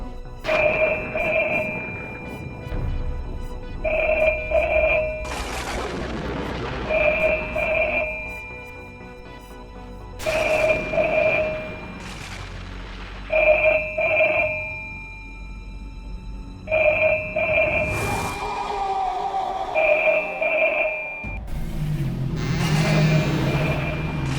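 A telephone rings repeatedly in a steady pattern of paired electronic trills, separated by short pauses, with some background noise.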